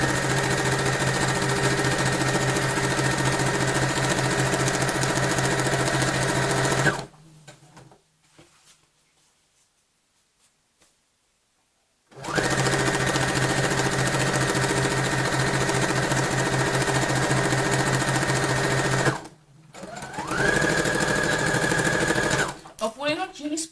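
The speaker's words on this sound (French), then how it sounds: "ma machine c'est la Brother FS40" A Brother FS40 sewing machine stitches a tote bag in two long, loud, steady runs of rapid mechanical whirring, separated by a pause of near silence, followed by a short final burst.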